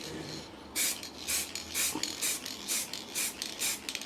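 Short bursts of aerosol spray hiss in a quick, even rhythm, each light pass brief and close, dusting on a light first coat during a Land Rover Series 3 restoration, with no voices.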